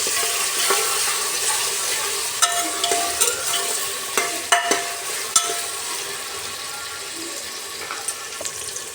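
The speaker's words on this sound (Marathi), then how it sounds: "कांदा आणि टोमॅटो पण टाकले मी." Onion and tomato frying in a pan for khichdi, a steady bright sizzle with intermittent spoon taps and scrapes against the pan.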